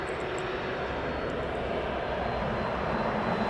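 Airplane at East Midlands Airport, a steady, loud, continuous engine roar and broadband rush of an aircraft on the ground, unchanging throughout with no talk.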